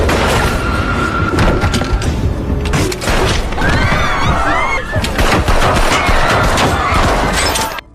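A shootout in the thriller movie Sky Crisis, with dense, loud gunfire: rapid bursts and single shots crack over a chaotic mix of thuds and shouting, continuing almost without pause until an abrupt cut at the end.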